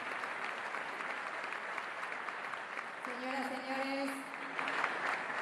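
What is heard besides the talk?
audience applause for the president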